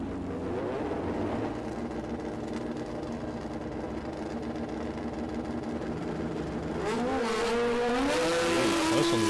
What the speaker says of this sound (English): Monica Reed Carpentry at Penrith on the Hayabusa, taking on Sean Ricketts for Heavy Duty Magazine on board the Kawasaki